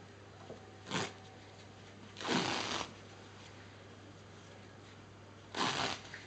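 Cohesive vet wrap bandage being pulled off the roll and wound around a dog's leg, three short crackling rips separated by quiet pauses, close and fairly faint.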